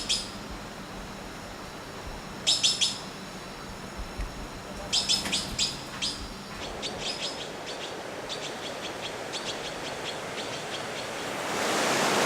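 A red-billed blue magpie, an introduced species in Taiwan, gives several short bursts of harsh, rapid chattering calls in clusters. The calls are moderately near and sit over a constant outdoor hiss, with no voices.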